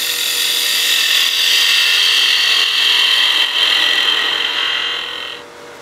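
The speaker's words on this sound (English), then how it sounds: "we'll use a skew just to square the face of the blank here" A skew chisel squares the rough-sawn face of a spinning wood blank on a lathe for a cigar case, giving a loud, steady, hissing scrape that tapers off as the tool lifts away near the end.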